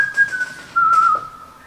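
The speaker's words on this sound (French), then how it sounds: "Au moment où je commence à siffler" A person whistles a single sustained, slightly wavering tone, clear and close, with a brief gap midway before it resumes and fades.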